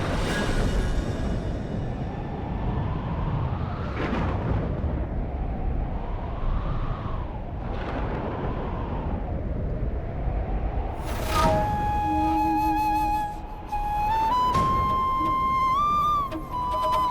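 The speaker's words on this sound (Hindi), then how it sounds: "ये आंधी तूफान कान्हा के स्वागत का संदेश है।" Dramatic TV storm effect: a steady roaring wind rushes with repeated swelling gusts and booms, building to a sharp crash of thunder before sustained tonal music rises over the howling storm.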